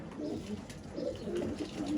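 Low, soft cooing from rose-breasted pigeons in Gaziantep repeats in gentle rolling phrases over a steady background hum.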